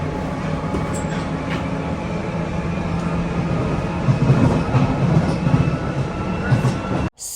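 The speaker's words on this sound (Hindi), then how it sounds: "सरप्राइजिंगली आज हमें ट्रेन पूरी खाली मिल गई थी, वरना लंदन में ट्रेन खाली मिलना, वो भी फ्राइडे, इट्स नॉट पॉसिबल।" A passenger train riding through London, with a steady low rumble and rolling clatter heard from inside the carriage and growing slightly louder toward the end before a sudden cutoff.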